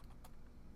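A computer keyboard is typed on to enter a Linux sudo command, a quick run of a few light, close keystrokes lasting under a second.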